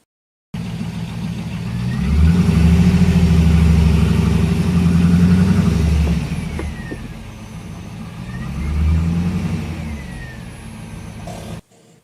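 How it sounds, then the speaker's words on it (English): A WS6 Pontiac Trans Am with wide tires rolls down Rhino auto ramps in a garage, its engine running steadily with a low rumble that swells, eases off, then swells again before cutting out abruptly. "And now you are ready to proceed to safely roll down the ramps."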